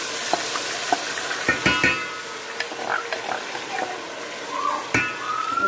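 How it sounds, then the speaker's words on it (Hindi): Onion puree frying in hot oil in a home kitchen while a spoon stirs it, with a steady soft sizzle, scattered scraping clicks and clacks of the utensil against the pan at close range. "अच्छे से अब हम भून लेंगे प्याजों को।"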